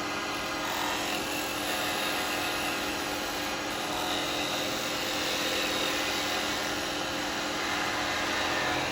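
A carbide chisel cuts a natural-edge bowl turned from firewood on a wood lathe, giving a steady, loud broadband scraping hiss with a low rumble that runs unbroken throughout.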